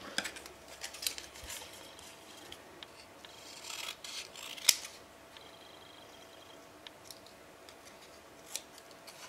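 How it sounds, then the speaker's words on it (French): Scissors snip through a paper image, cutting at a slight angle for a steampunk leather album page; close, quiet rasping blade strokes with a few sharper snips, no talking. "Je coupe un peu en biais pour pas qu'on les voit trop une fois collés."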